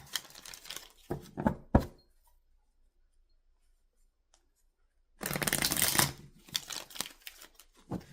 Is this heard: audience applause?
no